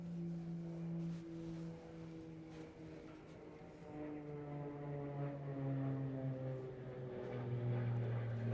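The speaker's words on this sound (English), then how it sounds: "Sound like a P-38. I don't know if you heard that or not. Plane overhead there." A propeller plane, likened to a P-38, drones overhead with a steady, slowly shifting engine hum that rises a little toward the end, distant but clear, with no talking.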